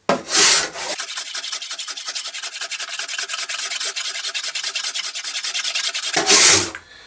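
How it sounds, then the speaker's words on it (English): Paint being scraped off a 1950s Jentique wooden writing bureau: a close, steady run of rapid rasping strokes lasting several seconds, bracketed by louder scuffs at the start and end, with no talking. "you can see how much scraping I'm going to have to do just for that"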